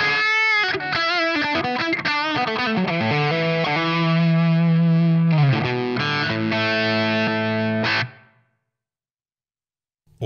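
Sustained electric guitar chords and single notes, played through a compressor on a NUX Trident, ring out loud and smooth with even, squashed dynamics, then cut off abruptly into silence.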